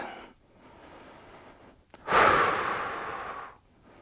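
Slow, audible breaths during a hip internal rotation exercise with a block squeezed between the thighs: a soft inhale early on, then a louder, longer exhale that holds for over a second before fading.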